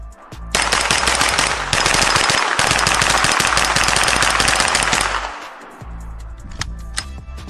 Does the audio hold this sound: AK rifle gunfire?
yes